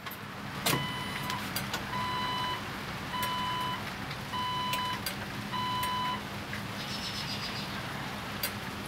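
A Jeep 4.0L with the ignition switched on while not running, its fuel pump priming; faint whirring hum with a sharp click, repeated short electronic chimes at regular intervals, and further clicks, all quiet and close.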